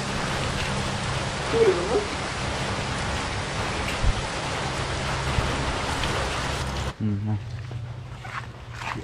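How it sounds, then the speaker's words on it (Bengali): Steady rain pours down outdoors on a rainy day, a dense, close hiss that suddenly cuts off near the end, leaving quieter ambience with faint voices. "তো বৃষ্টিটা একটু কমেছে"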